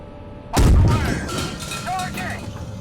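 A tank cannon fires in the PC game Gunner Heat: one sudden, loud blast that booms briefly, then fades into a rolling rumble with a few faint electronic tones in the background.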